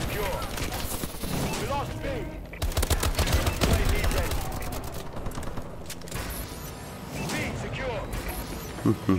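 Gunfire in Call of Duty: Advanced Warfare on PS4, rapid automatic bursts and crashing impacts in dense clusters through most of the stretch, with a player talking over the game sounds.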